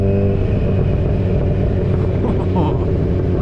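Kawasaki Z1000 motorcycle engine and exhaust burble at low revs: a deep, throbbing rumble heard close by, running steadily through a few seconds, with a voice talking over it.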